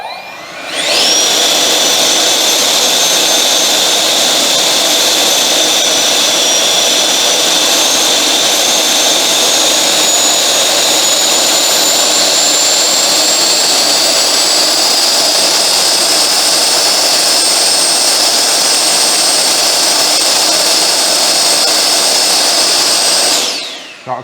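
A 64mm electric ducted fan on an FMS J-10 RC jet spools up to a loud, steady high-pitched whine that holds for about twenty seconds, then winds down.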